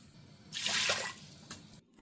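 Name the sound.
water poured into an Instant Pot for steaming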